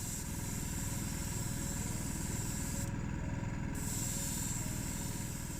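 Spray paint hissing steadily onto a Playart Mercury station wagon die-cast model, laying a red first coat in a continuous close, loud spray with a short interruption midway.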